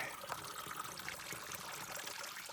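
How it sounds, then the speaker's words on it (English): Running water from a little mountain stream in the Shining Rock Wilderness trickles and splashes softly and continuously, faint and somewhat distant, with no voices present. "A little bit of running water back there."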